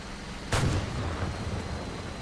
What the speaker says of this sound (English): I hear gunfire to the right